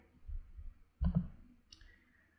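A computer mouse clicks once or twice during SQL Server setup, short sharp clicks with faint low thumps around them in a quiet room.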